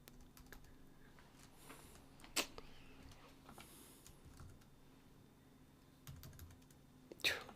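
Computer keyboard keys pressed while coding in C++, a few sharp isolated clicks at wide intervals over a quiet room hum, fairly faint.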